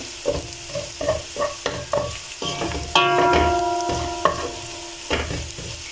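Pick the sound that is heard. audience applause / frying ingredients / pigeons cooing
frying ingredients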